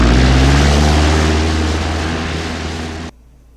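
A loud, steady propeller airplane engine drones close by, easing slightly before cutting off abruptly near the end.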